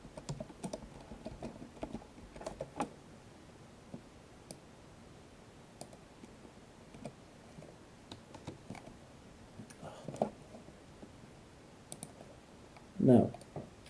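Computer mouse clicks sound while working in Solidworks, as faint, scattered, sharp taps at an irregular pace over a quiet background, with a slightly louder rustle near the end.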